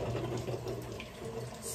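Water gurgles and bubbles steadily as a glass jar is held submerged in a pot for sterilizing while canning tomatoes, a close, soft continuous filling sound with no talking.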